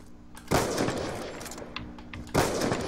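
Two sharp, loud gunshot cracks from Black Ops 2 quickscoping, about two seconds apart, each trailing into a rumbling decay over steady game noise.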